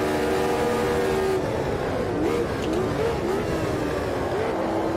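A race car at Silverstone in Automobilista 2, slipstreaming down the Hangar Straight behind another car. A loud, steady engine drone with rising and falling pitch sweeps as the cars shift and jostle, continuous for the whole clip.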